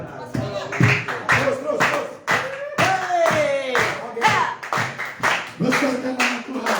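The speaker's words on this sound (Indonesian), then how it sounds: "Jangan berhenti tepuk tangan" A church congregation at a Sunday service claps hands in rhythmic bursts, sharp hits close by, while a voice talks and exclaims over the clapping throughout.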